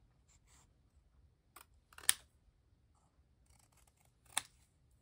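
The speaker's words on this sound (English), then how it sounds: "I'm just going to try to snip this straightly." Scissors make two quick, crisp snips as they cut paper in a quiet crafting space, with faint soft rustles between the cuts.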